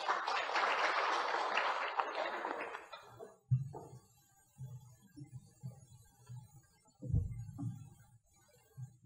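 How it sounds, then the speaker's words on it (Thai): Audience applause at a Thai science-for-business panel discussion, a dense wash of clapping for about three seconds that fades out, followed by quieter low thumps and rustling. "ขอเสียงปรบมือค่ะ"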